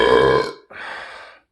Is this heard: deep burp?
yes